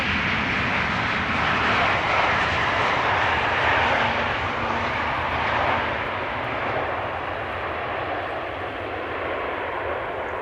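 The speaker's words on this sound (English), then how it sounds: "another E2 Embraer just now landed." An Embraer E2 airliner landing at Amsterdam Schiphol Airport, a broad, steady jet roar heard from a distance that slowly fades over about ten seconds, with no voices.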